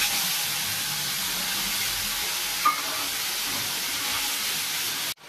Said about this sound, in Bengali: দেখো মশলাটা ভাজা ভাজা হয়ে এসছে